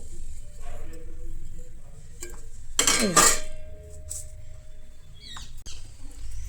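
Homemade panch phoron spice mix is poured into a glass bottle for storage. A short, rattling rush of seeds is followed by a few light glass clinks, set against quiet room sounds.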